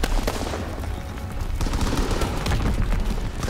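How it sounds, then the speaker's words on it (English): Dense gunfire from a Call of Duty WWII multiplayer match on PC, with continuous rapid shots and bursts overlapping into a loud, unbroken clatter for the full few seconds. "That was good ass shooting there."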